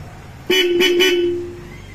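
A Kymco Xciting VS 400 scooter horn sounds one loud, nasal blast of about a second, with a slight pulsing at the start, then trails off. No one speaks.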